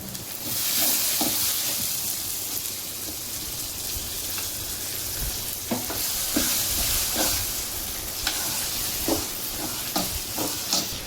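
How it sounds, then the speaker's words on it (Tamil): Tomato paste sizzles and sautés in a hot pan for fish curry, a steady close frying hiss with occasional light scrapes of stirring. "இது வதங்கட்டும்."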